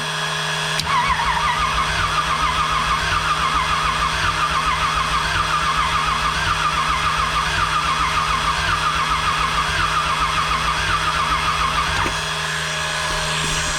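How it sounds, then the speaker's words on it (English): Engine cranking over on the starter with one spark plug removed, a steady rhythmic churning drone with an uneven beat that runs continuously for about eleven seconds, then stops abruptly. "I'm gonna go ahead and crank the motor over while I'm doing it."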